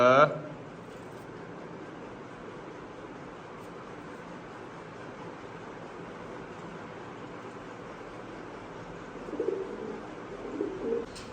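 Domestic pigeons in a loft give a few soft, low coos near the start and again near the end, over a quiet, steady background.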